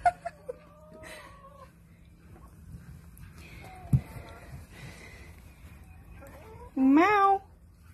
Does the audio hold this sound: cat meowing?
yes